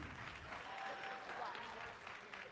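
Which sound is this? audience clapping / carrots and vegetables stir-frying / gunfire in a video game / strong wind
audience clapping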